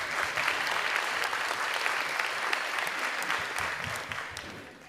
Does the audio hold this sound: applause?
yes